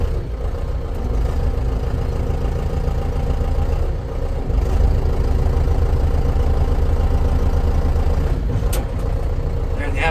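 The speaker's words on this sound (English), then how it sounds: "So I'm gonna run the joystick here on the loader so you guys can see that." A John Deere 6310 tractor engine runs steadily nearby, a low, continuous rumble that swells slightly as the front loader works, with no talking.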